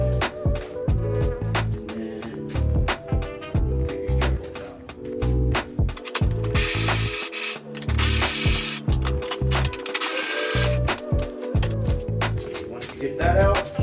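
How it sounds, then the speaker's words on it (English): A jack lifts a BMW E90 at the front ball joint with repeated, rhythmic ratcheting clicks close by, heard through steady background music. "Take your jack up on this ball joint right here."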